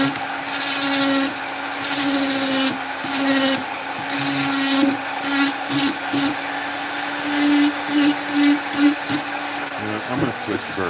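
Rotary carving tool with a burr cutting into wood, a loud continuous high whir that dips and surges as it bites, with brief pauses and changes in pitch.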